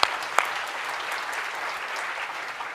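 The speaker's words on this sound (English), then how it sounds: "Can we give him a round of applause?" Conference audience applauding at posit::conf 2025, a steady dense wash of clapping from a large crowd that holds even throughout, with a couple of sharper claps standing out near the start.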